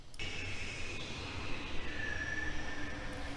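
A train running in the game The Longest Journey, a steady rumbling drone with a faint high whine rising above it, continuous and moderately distant, with no talking.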